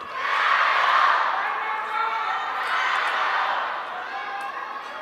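Arena crowd at the Singapore Smash 2022 table tennis final between Ma Long and Fan Zhendong roars in a sustained, loud wash of cheering that swells early, then holds steady, with an announcer's voice faintly underneath.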